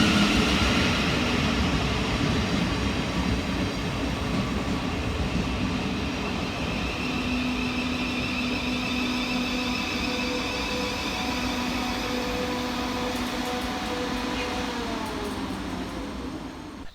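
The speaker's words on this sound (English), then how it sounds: "Arriving next into the station will be 707-029 and 707-018, working the 1244 Southeastern service from London Charing Cross to Hayes" Southeastern Class 707 electric units 707-029 and 707-018 pulling into a station on the Hayes line, a steady loud rolling rumble with a faint sustained whine throughout, no talking.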